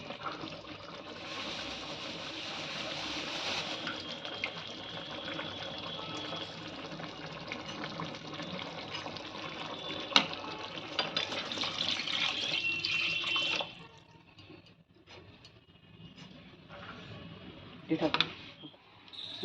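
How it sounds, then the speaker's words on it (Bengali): Cornflour slurry is poured into boiling chilli chicken sauce, giving a steady watery hiss and bubbling at close range for most of the time before it drops off. A voice talks over part of it. "এবার আমি দিয়ে দিচ্ছি কর্নফ্লাওয়ার গোলা জলটা"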